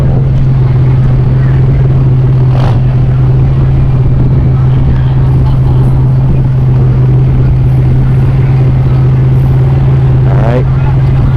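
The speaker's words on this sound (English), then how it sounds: "we got the Ram pickup." A turbo diesel Ram pickup truck sits at a drag strip, its engine holding a loud, steady low drone for the whole stretch, with wind buffeting and a faint background voice.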